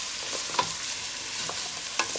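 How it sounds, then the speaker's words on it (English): Broccoli fries in a hot pan and gets stirred, a constant soft sizzle punctuated by a few clinking spatula strokes, close up with no voices. "So I'm going to add my broccoli now. I'm going to give this a stir,"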